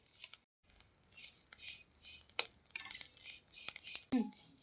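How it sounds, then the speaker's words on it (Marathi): Sesame seeds roast on low heat in a pan while a spoon keeps stirring them: quiet, close scraping and rustling with a few sharp metallic clinks against the pan. "असा चमचा फिरवून भाजायचं म्हणजे करपत नाही"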